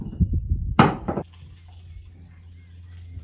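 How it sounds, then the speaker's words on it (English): Water splashes briefly into freshly planted pots in a short pouring burst, followed by faint dripping and a low background hum. "Put those over here and give them some water."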